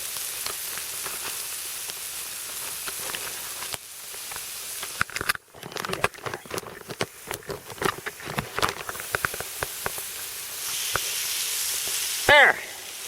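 Food sizzles on a hot rock outdoors, a steady hiss broken by crackles and bursts of spattering as pieces are moved, with a brief clink near the end.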